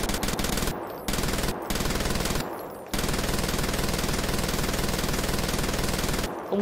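Rapid automatic gunfire in a Siren Head horror video game, loud sustained bursts of machine-gun fire broken by a few short pauses, close and dominant with no speech.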